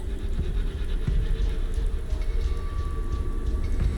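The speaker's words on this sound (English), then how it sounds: "The train crashed." A train crash in the video game Fallout: London, heard as a sustained, dense rumbling roar with heavy low-end throbbing and metallic screeching tones, loud and continuous with no talking.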